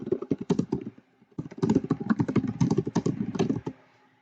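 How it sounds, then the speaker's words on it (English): Fingers type on a computer keyboard in quick irregular bursts of close, crisp key taps, with a short pause near the start and silence at the end. "You put your topic here, and then you can type whatever you want"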